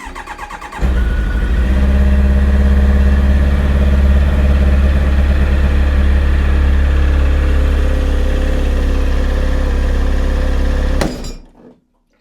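A Kawasaki ZX9R motorcycle engine fires up and runs at a steady, loud idle for about ten seconds, then cuts off abruptly, with no talking.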